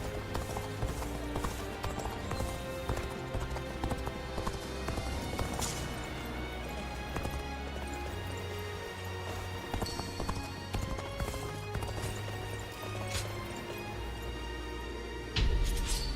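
Horse hooves clop along at a moving pace in the battlefield video game Dynasty Warriors Origins, a continuous rhythmic beat set under busy game music and effects.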